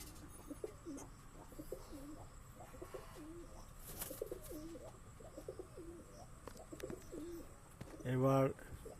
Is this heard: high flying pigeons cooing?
yes